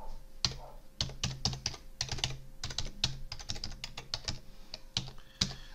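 A domain name is typed on a computer keyboard, with quick close key clicks in irregular bursts and short pauses, no talking.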